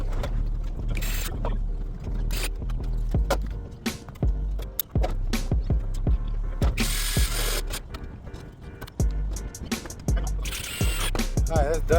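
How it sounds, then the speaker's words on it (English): Pneumatic or hand rivet tool setting rivets into metal building panels, giving a series of sharp, irregular metallic clicks and pops with brief hissy bursts, close and fairly loud over a low mechanical hum. "Go ahead and put some rivets in it now."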